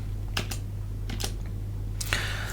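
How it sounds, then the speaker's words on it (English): Typing on a computer keyboard during Linux troubleshooting, with a few short bursts of key clicks separated by pauses, close and clear over a steady low hum. "I'm gonna go for just typing this"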